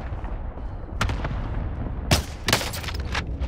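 Rapid gunfire and booming shots in the Call of Duty: Modern Warfare video game, several loud cracks in bursts over a constant rumble of battle noise, close and intense, with no talking.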